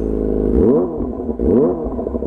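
A Kawasaki ZX25RR motorcycle fitted with an Austin Racing full-system exhaust is revved hard twice, each blip a loud, close rising roar that falls back to a rumbling idle.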